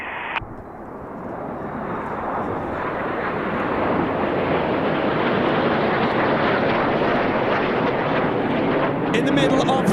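Red Arrows jets flying in formation with Concorde at the Goodwood Festival of Speed, a loud, steady jet roar that swells and holds for the whole stretch.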